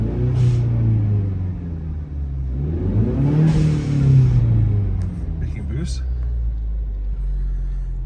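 A Ford Mustang EcoBoost engine with a newly installed intercooler idles in park, a low close rumble that swells with a couple of revs.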